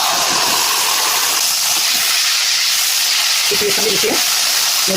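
Loud, steady hissing sizzle of grated jackfruit seeds frying in hot ghee in a pan, constant throughout, with a brief clatter near the end.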